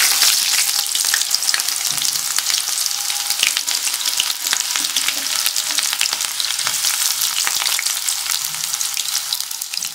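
Onions fry in hot oil in a kadai, a dense, continuous crackling sizzle that stays loud and steady throughout with faint stirring underneath.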